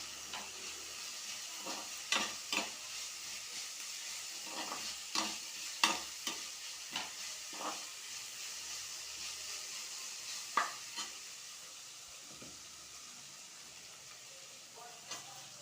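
Ginger and garlic fry in a pan for a parotta kurma, a soft steady sizzle near the mic punctuated by irregular spoon clinks and stirring scrapes, easing off toward the end, with no talking.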